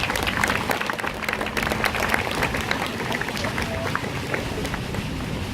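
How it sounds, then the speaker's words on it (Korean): Applause from a Catholic prayer-rally audience welcoming a speaker, a dense, steady clapping crowd that stays loud and continuous throughout, with some murmuring mixed in. "큰 박수로 환영해 주시기 바랍니다."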